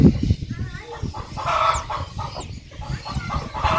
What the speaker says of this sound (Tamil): கோழி மூச்சு விடுது